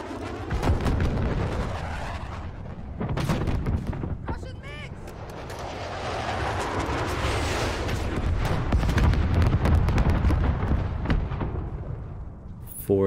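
Bombs dropped by Russian MiGs exploding in Call of Duty: Modern Warfare, a series of loud, heavy booms and rumbling blasts with gunfire crackle, rolling on near-continuously through the scene.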